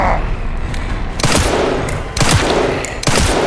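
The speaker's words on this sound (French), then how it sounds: "Il faut que je balance 6 balles sur lui du coup." Gunshots are fired at an enemy in the survival horror game Resident Evil Requiem: three loud, booming shots spaced about a second apart, each with a long reverberant tail over dense game ambience.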